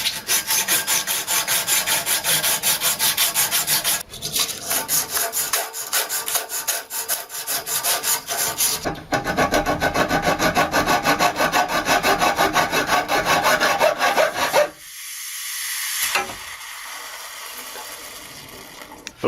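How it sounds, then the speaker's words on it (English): Sandpaper scrubs copper pipe during a bathroom remodel, a steady rhythmic rasping in close, repeated strokes with brief pauses between bursts. "I've actually decided to start cleaning the pipe up with the sandpaper"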